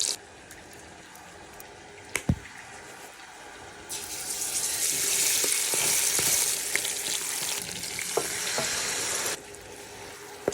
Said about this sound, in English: Frying the turkey